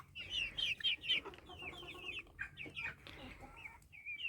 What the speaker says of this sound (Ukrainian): Не можу налюбуватися цими курами.